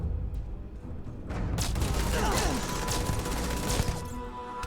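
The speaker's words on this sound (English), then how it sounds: "So many explosions." Explosions and gunfire in the video game Starfield crash in a dense, rumbling barrage, with booms and sharp bursts overlapping throughout.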